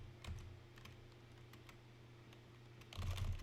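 Computer keyboard being smacked, quick scattered clatter of key presses, faint and close, with a louder cluster of hits at the end and a low hum underneath.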